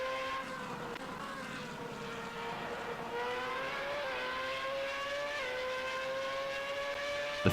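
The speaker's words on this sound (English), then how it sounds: "Just listen to that V6." A high-pitched V6 race car engine in the racing game Assetto Corsa drones steadily, its tone climbing and dropping sharply at a few gear shifts, with no talking.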